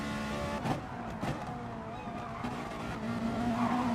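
Race cars in a racing game roar past with engine whine and tire squeals, their pitch rising and falling as they speed through, a steady mid-level din.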